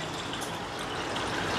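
Water pours steadily into a bowl of almonds, a close, continuous gushing splash that holds at an even level throughout.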